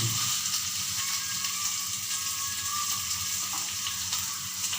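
Potato, green chili and ginger fry in a pan with a steady, close sizzle that holds for the whole stretch and has faint stirring scrapes underneath.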